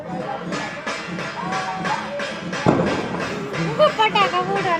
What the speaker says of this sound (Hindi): पटाखा फूटा लगा देख